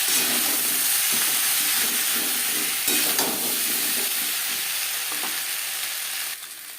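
Roasted coriander and cumin powder fry in a pan for a rohu fish curry with giant taro, making a dense, continuous hissing sizzle with occasional stirring scrapes that eases off slightly at the end.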